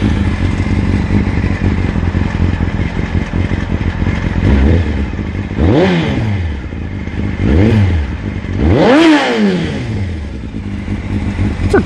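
Honda CBR 600 F3 sport bike with about 33,000 miles and a shorty Yoshimura exhaust idling loudly up close, then blipped three times, each rev rising and falling quickly before settling back to a rough idle.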